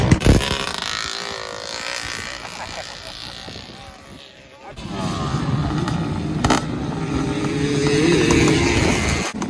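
A 250R two-stroke quad tears across sand dunes, its raspy buzzing engine loud and close, easing off briefly midway before revving back up under heavy wind rush, with muffled voices mixed in.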